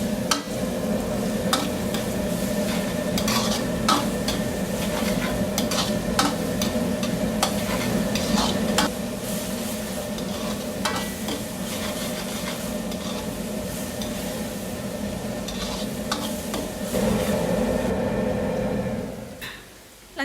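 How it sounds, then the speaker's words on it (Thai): Chopped onions stir-frying in a hot pan as the first step of a shrimp spring roll filling: a constant, close sizzle with scraping stir strokes throughout, fading out at the very end. "ใช้หัวหอมนะคะ ที่เราหั่นไว้ ใส่ลงไปผัดก่อนเลยนะคะให้หอม"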